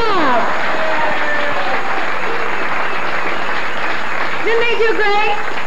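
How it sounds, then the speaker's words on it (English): An audience at a comedy improv show gives the troupe a steady, dense round of applause throughout, with a host's voice speaking over it near the start and end. "How about one more round of applause for New and Improv?"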